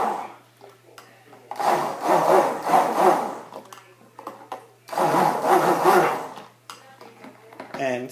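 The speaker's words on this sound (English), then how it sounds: "And so now I'm just mixing to add those last 3 ingredients that I added just now." Homemade hand and body lotion of light oils is stirred and whisked in a bowl, two long rasping bursts of mixing with short pauses between and a quieter scrape near the end.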